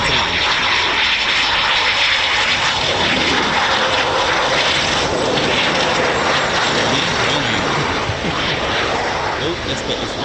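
An RAF Eurofighter Typhoon FGR4 jet flies near a QRA station, its broad roaring engine noise steady and loud across the whole stretch, with people talking over it.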